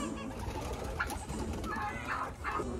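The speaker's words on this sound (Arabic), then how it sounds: "هنا عندنا حمامات اتوقع." Soft, low pigeon coos murmur close by over a steady background hum, a few throaty calls overlapping without pause.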